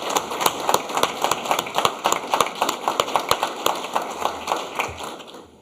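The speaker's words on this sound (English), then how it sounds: "another round of applause for the graduating officers" Applause from a crowd at a jail officers' graduation ceremony, a dense patter of many hands clapping at moderate distance, holding steady before tapering off at the end.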